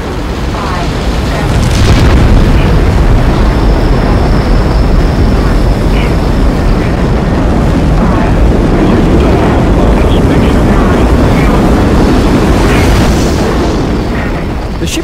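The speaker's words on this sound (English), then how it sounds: "The ship blasts off" A rocket ship blasts off with a loud, sustained roaring rumble that holds steady for about fifteen seconds with no break, rising slightly early on and easing near the end.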